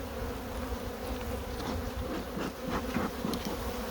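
Honeybees drone in a dense, continuous buzz around an open hive whose frames are being inspected during requeening, steady and close throughout.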